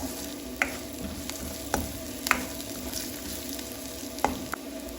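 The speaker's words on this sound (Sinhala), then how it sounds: "එකතු කරගත්ත කෑලි මිරිස් ටිකත් මේ විදිහට තෙලේ යාන්තමට බැදගන්න" Chilli flakes frying lightly in oil, a soft steady sizzle with occasional clinks and scrapes of stirring, close and quiet, with no talk.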